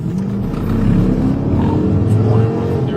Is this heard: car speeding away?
yes